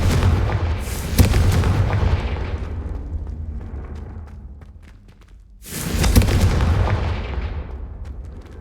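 Confringo fire spell blasting in the video game Hogwarts Legacy, two loud booming explosions with rumbling decay, the first fading slowly over several seconds before the second blast hits hard.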